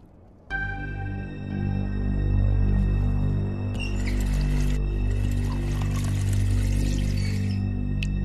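In The Wolf Among Us, water pours into a vessel with a steady splashing trickle over a low humming tonal backdrop, starting abruptly and running continuously at moderate loudness.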